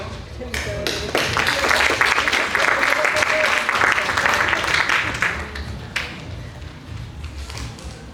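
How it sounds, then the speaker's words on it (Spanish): Audience applause at a university talk in Argentina, dense steady clapping from a crowd that swells and holds for several seconds before tapering, with a few stray claps and faint voices mixed in. "Y un aplauso para nuestro..."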